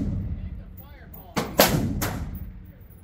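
Two sharp revolver gunshots crack close by in quick succession, each followed by a short ringing decay, with quiet talk from people at a shooting range before the shots.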